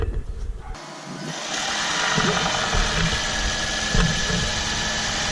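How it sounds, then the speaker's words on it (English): A Toyota hybrid car's engine starts up and runs after an oil change, settling into a steady, close broadband drone with a low idling rumble that holds evenly to the end. "And start the engine."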